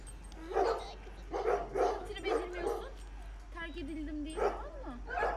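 Dogs bark and yip in several short bursts at a shelter drop-off, with a whimper-like whine in the middle, all mixed with people talking nearby.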